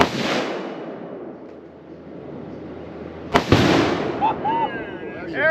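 A loud blast from Tannerite packed with extra-hold hairspray goes off outdoors, a sharp crack followed by a rumbling decay, with a voice and noise around it before and after.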